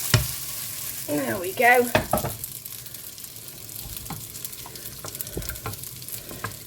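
A pan of cooking carrots being stirred and shaken, with a few clanks and a brief rattle of the pan near the start, then quieter scrapes over a low sizzle while a person speaks briefly.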